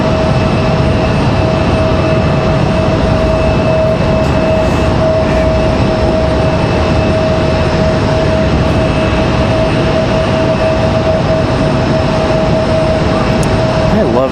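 An Air France airliner arrives at Raleigh-Durham International Airport. A steady jet engine roar runs the whole time with a sustained whine and a constant tonal hum, loud and continuous.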